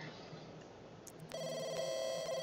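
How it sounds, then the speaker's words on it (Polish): A telephone rings in The Sims 2, a bright electronic ringtone that starts partway through and continues steadily, clear over faint game background sound. "zobaczymy, kto to dzwoni"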